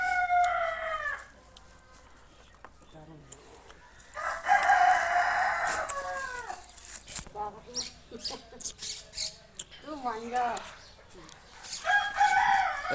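Roosters and chickens crow and cluck at a farmhouse coop. Several loud, drawn-out crows ring out near by, mixed with shorter clucks and calls over quiet farmyard background.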